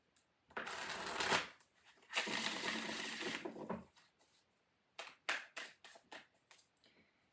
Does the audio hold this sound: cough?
no